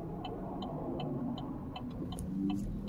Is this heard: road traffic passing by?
yes